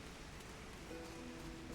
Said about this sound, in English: Oh, and it's raining here.